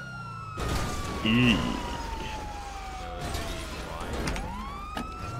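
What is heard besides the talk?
police car siren in video game GTA V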